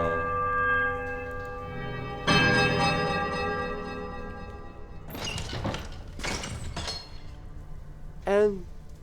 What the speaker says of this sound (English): Right bell, middle bell, left bell,